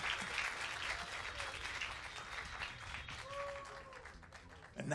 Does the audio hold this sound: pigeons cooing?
no